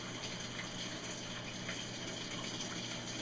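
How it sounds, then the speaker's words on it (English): A Whirlpool Cabrio washing machine in automatic test mode fills through its hot water valve, giving a steady, continuous rush of water under a faint electrical hum, without pauses. "Testing the hot water valve right now."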